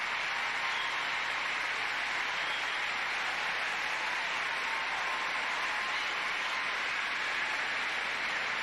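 Arena crowd at a 1996 figure skating event applauding and roaring for Kristi Yamaguchi after her short program, a dense and unbroken wash of clapping and cheering that stays at a constant level throughout.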